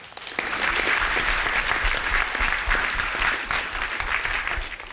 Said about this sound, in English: How about another round of applause for generous,